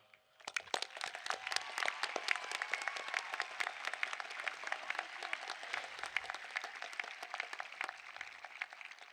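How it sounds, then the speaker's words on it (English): A graduation audience gives retiring teachers a round of applause: sharp, distinct hand claps build quickly into sustained, moderately sparse clapping that continues throughout. "I want to ask you all to join me in a round of applause"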